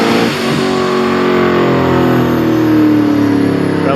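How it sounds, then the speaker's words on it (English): A car engine revs hard on a mobile dyno at the LSFest East car show, a loud, sustained roar near at hand that holds high revs and swells slightly toward the end. "Got a little mobile dyno action going on."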